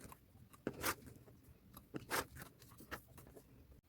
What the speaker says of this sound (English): And I'll just get this whole piece cut into strips like this.